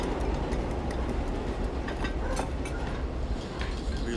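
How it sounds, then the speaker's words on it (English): A loud, steady rumble and rattle of a subway train passing close by, continuous roaring with metallic clatter throughout. "Subway."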